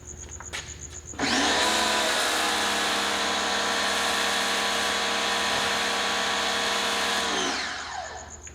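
Foam cannon with a 1.1 mm orifice spraying car wash soap, starting abruptly into a loud steady hissing rush that holds for about six seconds before tapering off.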